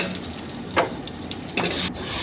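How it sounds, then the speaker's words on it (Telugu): Ginger garlic paste fries in a pan for a mushroom curry, giving a steady low sizzle with a few louder stirring scrapes. No one speaks. "అల్లం వెల్లుల్లి పచ్చివాసన పోయేదాకా ఫ్రై చేసుకోవాలి"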